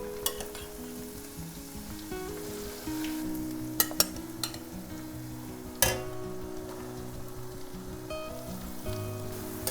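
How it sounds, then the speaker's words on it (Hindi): Onions fry in hot oil with cumin and bay leaf, a steady close sizzle with occasional sharp pops and crackles as they cook alone without any talking. "अनियन को ट्रांसलूसेंट तक तेज़ आग पे भुनेंगे, इसका मॉइस्चर जाने देंगे"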